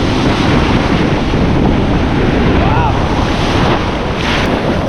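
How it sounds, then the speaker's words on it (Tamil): Ocean surf at a beach on Chennai's East Coast Road, rough waves crashing in a steady loud roar with heavy wind buffeting the microphone, no speech. "இப்போ அலையெல்லாம் தாறுமாறாக இருக்குது"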